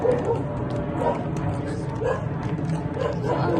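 A dog barks a few times at regular intervals, fairly faint beneath the chatter of people talking nearby.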